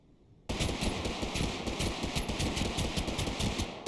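Burst fire from a gun in the battle royale game TABG, rapid regular shots starting abruptly and continuing in a tight, loud, close rhythm with no talking.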